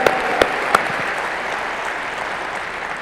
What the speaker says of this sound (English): Give yourself a round of applause for showing up